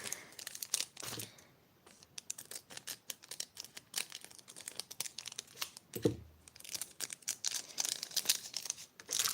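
Plastic packet holding an epic ring, crinkled, rustled and torn open close up in a steady run of sharp crackles, with a short quiet stretch midway.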